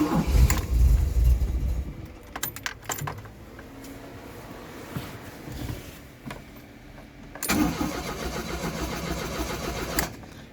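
A warm carburetted car engine on full choke cranks repeatedly without catching, with a starter whirring in bursts separated by pauses and a metallic click, close and loud.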